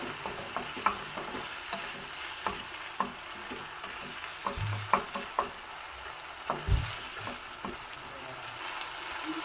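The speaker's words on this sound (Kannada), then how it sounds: "ತೊಗರಿಕಾಳು ಬೇಯೋದಕ್ಕೂ ಏನು ತುಂಬ ಟೈಮ್ ಏನು ಬೇಡ ಚೆನ್ನಾಗಿ ಎಣ್ಣೆಯಲ್ಲಿ ಬಾಡಿಬಿಟ್ರೆ ಸಾಕಾಗತ್ತೆ" Pigeon peas fry in oil in a pan for a Mangalore-style rice dish, with a steady hiss broken by scattered clacks and scrapes of stirring and a couple of heavier knocks.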